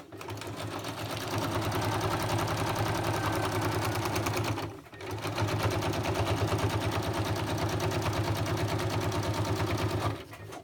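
Sewing machine stitching down a fabric gusset on a decorated gift pouch, a steady close mechanical whir with a fast even needle rhythm, pausing briefly midway and then running on.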